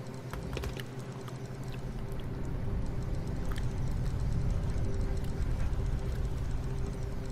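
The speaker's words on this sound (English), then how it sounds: "God, they take these long ass showers, dude. Oh, she's taking one too." Steady hiss of shower water running in the survival management game Sheltered, a continuous broadband wash of moderate loudness with faint clicks and background game tones, no voices over it.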